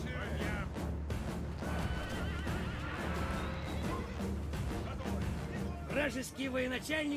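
Horses whinny repeatedly over a busy Total War: Rome Remastered soundtrack with clattering hooves and battle noise, horse archers in play, loud and continuous throughout.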